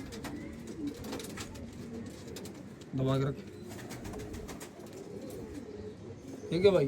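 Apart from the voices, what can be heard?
pigeons cooing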